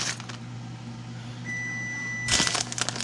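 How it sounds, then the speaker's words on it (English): A home oven that has finished preheating gives one steady, high electronic beep lasting under a second, heard over a low kitchen hum, followed by some rustling handling noise. "My oven is preheated."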